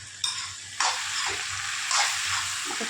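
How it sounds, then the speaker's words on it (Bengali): Spices with turmeric, coriander powder and chilli powder are stirred in a hot pan. The sizzle is loud and close, and a few distinct scraping strokes of the spoon break through it. "এখন আমি বেশ কিছুক্ষণ ভালো করে নাড়াচাড়া করে নেব।"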